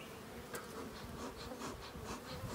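Honeybees swarm around an opened hive during a spring inspection, a dense, steady buzzing with individual bees droning close past, and no talking.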